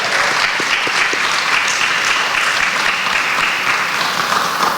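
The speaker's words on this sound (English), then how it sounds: "I think you should give yourself and all other teams a big round of applause." Loud, dense applause from an audience at a grant ceremony, many hands clapping steadily and close for about five seconds without a break.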